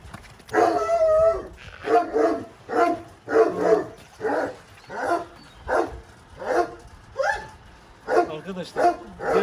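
A dog growls and barks in a steady series of rough, rhythmic vocal bursts about once a second, close and fairly loud, with no talk over it.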